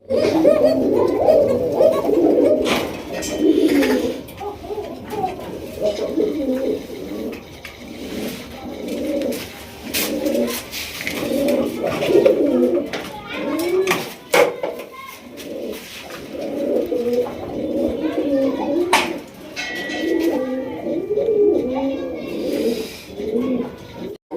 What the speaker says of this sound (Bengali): তো চলুন দর্শক আমরা এক এক করে কবুতরগুলো দেখাবো